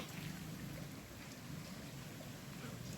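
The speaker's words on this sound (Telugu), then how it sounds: "ఈరోజు ఉదయం కూడా వాన అయితే ఆగట్లేదు అనమాట పడతానే ఉందన్నమాట" Steady rain pours down outside a village home near a fully flowing canal, a continuous dense hiss with low rumbling texture, uniform and unbroken throughout.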